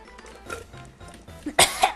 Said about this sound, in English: Clearing your throat.